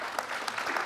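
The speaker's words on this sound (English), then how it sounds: "please go ahead and give them applause." Brief, faint burst of audience applause for a conference panel, with scattered overlapping claps and no talking.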